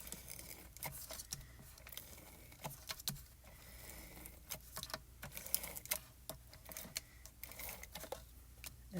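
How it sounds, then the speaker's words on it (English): A Tombow Extreme tape runner lays adhesive onto craft plastic in a series of quiet, close, irregular clicks and short rasping strokes, with soft pauses between them. "I'm going to use some super strong tape runner on this, which is the Tombow Extreme"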